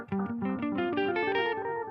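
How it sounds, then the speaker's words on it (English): Electric guitar solo notes from an RC-600 or RC-300 loop station run through delay on everything, a quick rising run with each note echoing and overlapping, loud and clear without talk. "So if I leave it on, it would sound like this."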